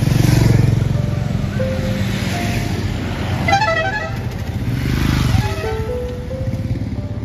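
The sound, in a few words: motorcycles in a bike rally with horns honking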